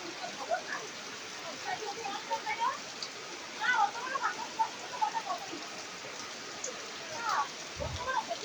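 Rain falls among mango trees as a soft, steady patter with scattered nearer drips, under intermittent talking.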